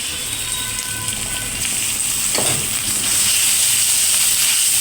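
Shrimp fry in a pan with turmeric, salt and green chili paste, giving a steady hissing sizzle that swells slightly toward the end, with no voices.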